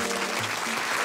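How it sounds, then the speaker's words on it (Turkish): A studio audience on a Turkish TV quiz show applauds the red team, a brief, loud burst of steady clapping that fills the room. "Alkışlar kırmızı takıma gelsin."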